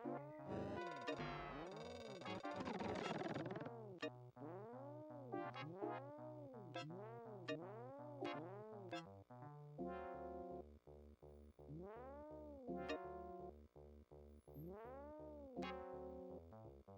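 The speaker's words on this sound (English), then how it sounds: "Taz's jump sounds a little bit like an angry cat." Taz's jump effect in the Sega Genesis game Taz-Mania, a repeated snarling, angry-cat-like cry that rises and falls in quick arcs, sounding again and again over a looping electronic game tune.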